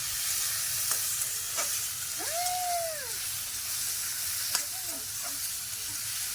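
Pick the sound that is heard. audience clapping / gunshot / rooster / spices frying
spices frying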